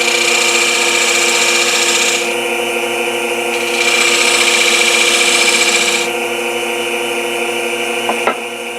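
Wood lathe turning a bowl, with a steady loud motor whine and tool hum whose pitch rises and falls as the speed is adjusted, ending with a brief knock.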